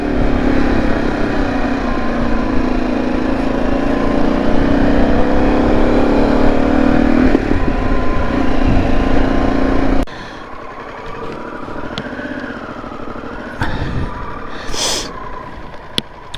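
Traffic on Hardknott Pass, a narrow mountain road, as a constant loud engine drone that rises and falls, then cuts to a quieter scene with a single vehicle revving and passing.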